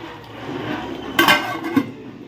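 A metal lid is set onto a pot of mutton curry, giving a soft clatter followed by two sharp clinks close by, over a quiet kitchen background.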